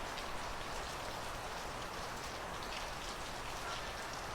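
Heavy, gusty rain falls in Northern California as a steady, dense hiss of drops on surfaces, even and continuous throughout with no voices.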